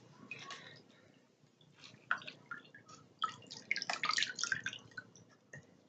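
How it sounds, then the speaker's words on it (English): Water running and dripping while conditioner is rinsed out of a synthetic wig, with wet squishing and splashing that grows busier toward the middle, close by and with no talking. "So I'm going to rinse this conditioner,"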